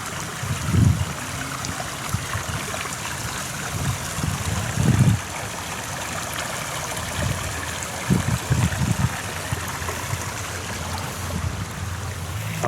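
Steady rushing river water flows throughout in Villa General Belgrano, Argentina, with a few low thumps breaking in now and then; no voices.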